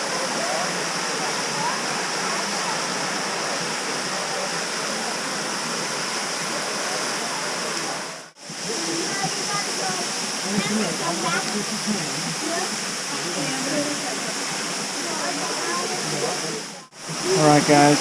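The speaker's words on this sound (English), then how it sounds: "This is Ash Cave, the waterfall." Ash Cave waterfall in Hocking Hills State Park, Ohio, pours in a steady, loud broadband rush of falling water that fills the scene continuously, with two brief dips in level.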